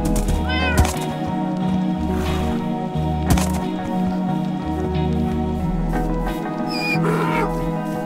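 A cat meows in Minecraft, with several short, close mews rising over a steady background of game ambience and patter, spaced irregularly across the stretch.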